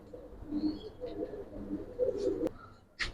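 Giribaz pigeons coo softly in a few low, rounded phrases up close, separated by brief quiet gaps and a sharp click near the end.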